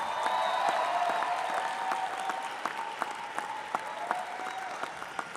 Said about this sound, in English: If you would all give a round of applause for those who have helped get you there.